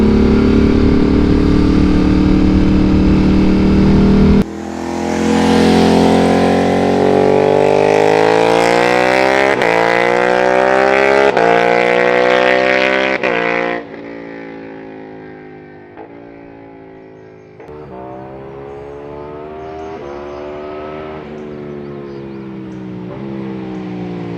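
A 2025 Ducati Panigale V2 motorcycle being ridden, its engine loud and close as it revs and climbs through rising pitch sweeps with gear changes, then easing to a lower, quieter drone before building again.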